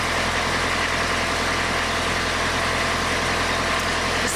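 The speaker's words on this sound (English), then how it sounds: "These things have a 2400cc Mercedes diesel engine." A 2400cc Mercedes diesel engine idles right after a cold morning start, a constant, loud, close clattering rumble with no change in rhythm throughout.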